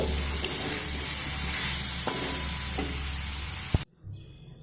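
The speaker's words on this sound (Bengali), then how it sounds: "এই কপিটা দিয়ে দেবো দিয়ে আবারও মিডিয়াম ফ্লেম করে খুব সুন্দর করে চিকেনের সঙ্গে কফিটা কষিয়ে নেব" Cauliflower florets fried together with chicken in a pan over a medium flame give a steady, loud, close sizzle with a few stirring knocks, cutting off abruptly near the end.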